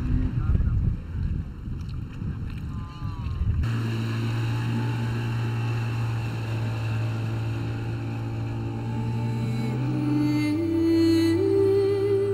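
Boat ride across the water at Djoudj bird sanctuary in Senegal heading out to see pelicans, with a steady engine drone and wind buffeting the microphone throughout, preceded by a brief rougher noisy stretch.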